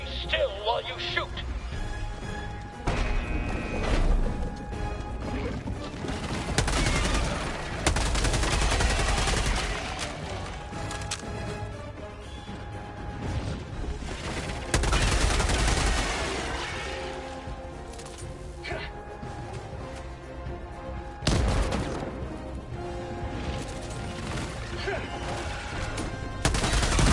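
Sustained gunfire from the video game Helldivers 2, bursts and volleys rolling through the whole stretch at a loud, steady level, mixed with heavy battle noise and voices talking over it.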